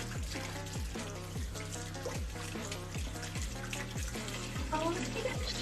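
Water runs steadily from a kitchen tap while a whisk is rinsed, with a rhythmic clatter of the whisk against the sink, under low background talk.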